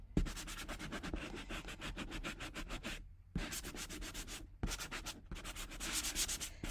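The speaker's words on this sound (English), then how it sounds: "Our surfaces sand very nicely." Chalk-painted surface being hand sanded in fast rhythmic back-and-forth strokes, a close, gritty scratching broken by two short pauses, with no voices.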